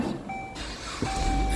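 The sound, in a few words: vehicle reversing beeps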